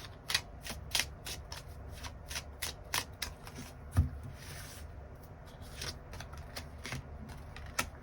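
Tarot cards are shuffled and drawn in a quiet room: a rapid, steady series of crisp papery flicks and snaps continues for several seconds, close and fairly soft, with no talking.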